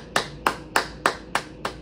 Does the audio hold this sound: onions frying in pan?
no